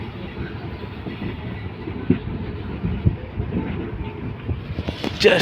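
A Padatik Express train rumbles steadily along a curved track with low mechanical roar and occasional clanks and squeaks from the wheels, louder near the end.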